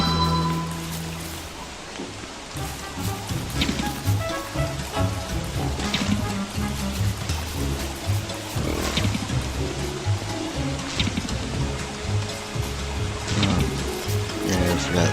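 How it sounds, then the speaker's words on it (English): Steady rain from the video game Don't Starve falls continuously at an even level, a dense patter over a low backdrop of game music. "It looks like it's gonna be a rainy day."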